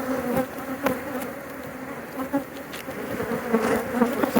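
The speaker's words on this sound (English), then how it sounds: "We got the bees all pissed off." A swarm of agitated bees buzzes loudly and steadily around an exposed hive in cut tree limbs, a dense close drone with occasional louder passes near the microphone.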